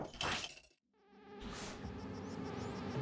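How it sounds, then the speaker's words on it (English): Bees buzz around a hive in the video game Spelunky 2. A close, whining drone comes in short bursts, cuts out briefly, then returns as a sustained buzz layered over the game's other sounds. "Incessant buzzing."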